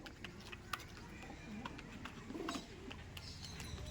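Giribaz pigeons coo softly at close range, with low, warbling calls rising here and there over a busy background of scattered clicks and faint room noise.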